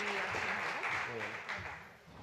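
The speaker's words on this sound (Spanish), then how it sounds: "Así que un fuerte aplauso" Applause from an audience at a gastronomy round table on contemporary craft, brief and fairly faint, heard under a speaking voice.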